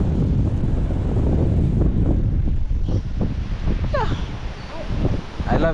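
Strong wind roars across the open shore at Diana Beach with crashing surf beneath it, a constant loud buffeting that fills the whole stretch, with faint voices briefly rising near the end.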